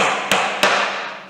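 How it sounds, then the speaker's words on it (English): Two sharp, ringing hammer strikes drive small nails into a wooden beehive, evenly spaced and close, each blow decaying into a resonant ring. "you can use any hammer you want, but these small nails"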